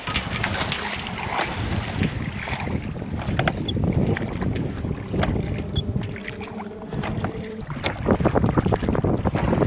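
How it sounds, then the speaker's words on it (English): Choppy water and waves slap around a small sailing dinghy at the head of a Highland loch in the Great Glen, with steady wind buffeting the microphone and close, continuous splashing throughout. "Whoa, some waves there."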